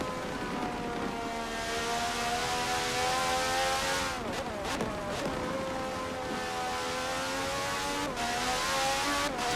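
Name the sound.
IndyCar race car engine onboard at Watkins Glen, racing video game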